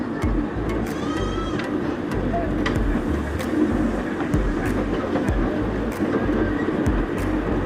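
Mini train ride at Rabbit Hole Park in Phuket, Thailand, with a steady rumbling, rattling rolling noise heard from on board and occasional clicks and brief voices over it.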